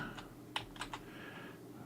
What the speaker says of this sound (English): Typing bad. Typing not well.